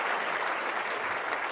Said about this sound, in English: Big round of applause for Minerva.